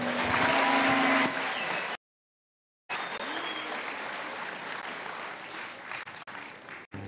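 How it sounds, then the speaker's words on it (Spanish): A church congregation at a Bible seminar applauds loudly, a dense burst of clapping broken by a brief silent gap before resuming and thinning toward the end. "Con fuertes aplausos."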